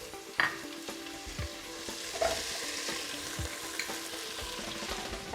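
Two peeled, chopped onions frying and sizzling in a pot while being stirred, a steady broadband hiss with a few light clatters of the spoon against the pot, close and moderately loud, with no talking.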